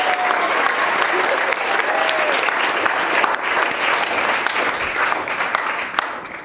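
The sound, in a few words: applause, clapping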